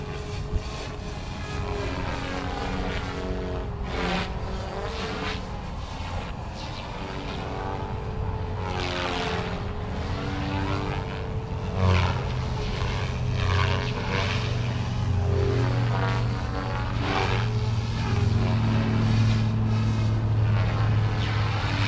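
A small RC helicopter runs on a bench at 70% throttle, its rotor and motor producing a loud, continuous whirring whine that wavers in pitch throughout, close and alone without speech.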